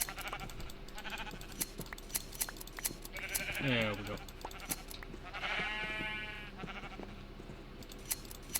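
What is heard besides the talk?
sheep bleating in Minecraft video game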